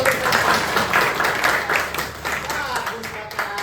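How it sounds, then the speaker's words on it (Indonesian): A class of students applauding, a dense burst of hand clapping that stays loud for a few seconds and then thins out slightly toward the end. "Baik, tepuk tangan dulu."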